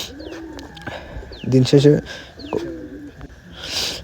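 An old-bloodline Khulna pigeon coos close by in a series of low, throaty rolling calls, with a burst of deeper cooing in the middle, while someone speaks briefly over them.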